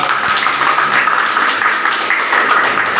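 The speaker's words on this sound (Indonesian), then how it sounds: "Oke, tepuk tangan." Steady, dense clapping from a classroom of students fills the whole stretch at an even level, without cheering or talk.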